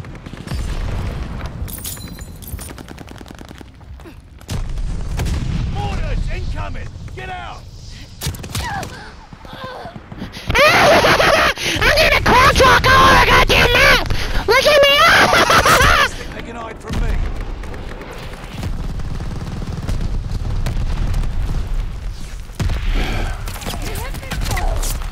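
Gunfire from a Call of Duty match, rounds fired through a wall, bursts out as a loud dense volley in the middle amid earlier scattered shots, with a shouting voice over much of it.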